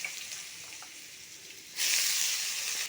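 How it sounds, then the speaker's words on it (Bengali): Potatoes frying in a little oil in a hot wok, a steady soft sizzle that suddenly grows louder and brighter partway through, continuing evenly with no talking. "এরপরে ধুয়ে রাখা আলুটা ভেজে নেব"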